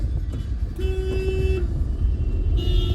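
Dense road traffic with a car horn sounding one sustained toot of nearly a second, then a higher, fainter honk later, over a steady rumble of engines.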